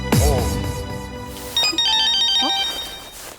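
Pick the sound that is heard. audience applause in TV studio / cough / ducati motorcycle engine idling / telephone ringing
telephone ringing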